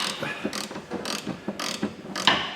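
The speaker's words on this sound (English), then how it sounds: "I'm just going to bolt these bushes up." A hand ratchet clicks in quick repeated strokes while tightening bolts on rear subframe poly bushes of a Ford Focus ST220 project car, close and crisp with short pauses between bursts.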